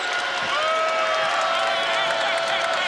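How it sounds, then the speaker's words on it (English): Loud, sustained basketball arena crowd cheering and roaring during an LSU vs. Boston College men's college game, a continuous wash of noise with a commentator talking over it. "this crowd is into it now"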